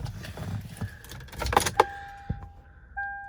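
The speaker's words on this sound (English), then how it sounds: "I'll grab the keys here." Keys jingle close by in a 2007 Toyota 4Runner Limited, a few bright metallic clinks and rattles followed by a door thud and a steady electronic chime tone from the truck.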